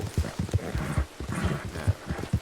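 Horse hooves clip-clopping in a steady trotting rhythm with a brief whinny, from the video game Red Dead Online, close and clear with no talk.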